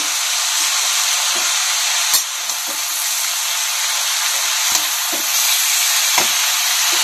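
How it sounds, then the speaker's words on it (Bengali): Cabbage being stirred and fried with spices in a Thakur-bari style cabbage ghonto: a steady, close sizzle of frying with occasional sharp scrapes and clicks from the stirring utensil, no voices. "বাঁধাকপিটা দিয়ে এখন ভালো করে মিশিয়ে নিব মশলার সাথে।"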